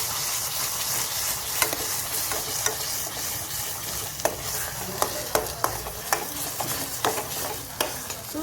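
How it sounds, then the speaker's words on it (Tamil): A spoon stirs thick apple halwa with cashews and almonds in a pan, giving a quiet sizzle under a run of clicking and scraping strokes that grow more frequent toward the end. "சேர்த்து நல்லா மிக்ஸ் பண்ணுங்க."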